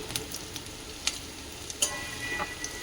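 Ginger fries in a little oil, making a quiet, constant sizzle close by, broken by a few sharp spatters and pops.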